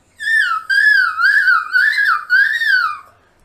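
A singer warms up in whistle register, producing extreme high, pure tones that glide and warble through five or six short phrases separated by brief breaths, loud and close with nothing else heard.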